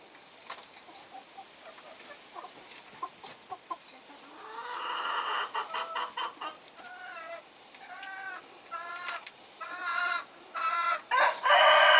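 A young Denizli rooster crows repeatedly in short, slightly broken calls, with chickens clucking nearby in a coop and quiet background before the crowing starts.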